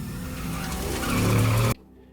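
A car speeds away in an anime scene with a loud, rising engine roar and skidding tires, building to a peak before cutting off abruptly into near silence.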